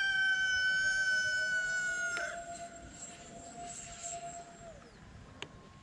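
An E-flite A-10 64mm electric ducted-fan RC jet flying past, a high whining tone that drops sharply in pitch as it passes, then trails off into the distance over open air.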